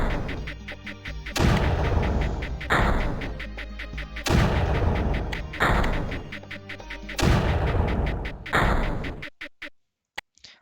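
Cannon turrets in the strategy game Creeper World fire in heavy repeated volleys, loud booming blasts at roughly one-and-a-half-second intervals with crackling tails, ending in a few sparse thuds.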